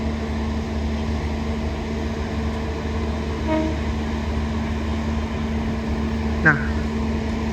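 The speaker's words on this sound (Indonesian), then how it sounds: "Nah, ini kereta api Tawang Alun" The Tawang Alun passenger train in Indonesia rumbles past with a steady low drone, and a short horn blast sounds near the end while people talk over it.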